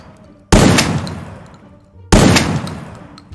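Two loud, close shotgun blasts in Free Fire Max, about a second and a half apart, each a sharp crack trailing into a fading roar.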